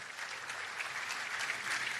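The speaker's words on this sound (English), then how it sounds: "A round of applause to all of you." Audience clapping at a seafarers' community event in Goa, a steady moderate round of applause heard alone.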